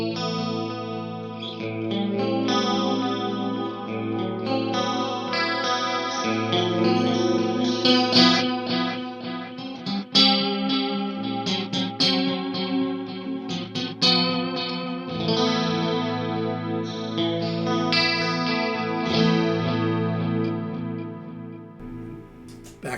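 Guitar run through an Axe-Fx chorus and detune effect loop, a continuous shimmering, doubled tone with sustained chords and plucked notes, loud and close with no talking.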